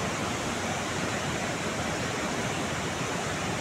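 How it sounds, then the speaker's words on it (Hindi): Kullu waterfall pouring down with a steady, dense roar of falling water, broadband and continuous throughout, close and loud with no voices over it. "देख लीजिए कैसे पानी गिर रहा है और कैसे आवाज़ कर रहा है पूरा झरना।"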